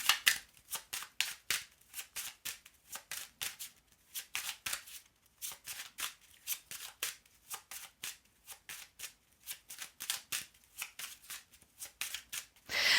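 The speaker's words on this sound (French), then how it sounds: "On va regarder avec l'oracle des miroirs avec un tirage à 13 cartes." Oracle cards being shuffled for a thirteen-card reading, a quick, steady stream of soft papery riffles and flicks heard close up and without any voice.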